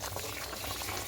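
Vegetables for shukto boil in a covered pot, a quiet, steady bubbling and gurgle heard close by with nothing else over it.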